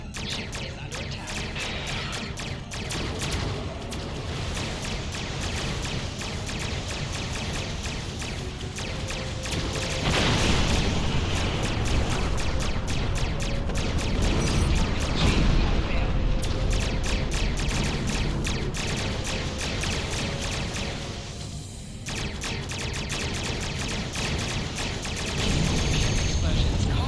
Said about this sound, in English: Explosions cause damage. Put some distance between yourself and exploding ships.